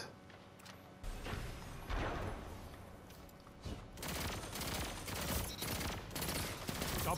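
Sustained automatic weapon fire in a Destiny 2 match, quieter bursts at first, then a dense, loud stream of rapid shots with booming impacts.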